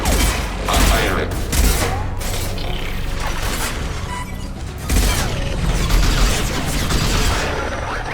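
Rapid bursts of automatic turret gunfire in the Mass Effect video game, dense crackling volleys that swell around the first second and again near the fifth, with mechanical clatter and booming impacts throughout.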